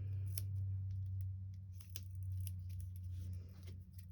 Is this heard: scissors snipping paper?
yes